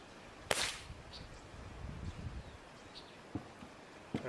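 A single sharp, close crack from an inexpensive PCP air rifle firing a .22 pellet, followed by quiet handling rustle and a few faint clicks.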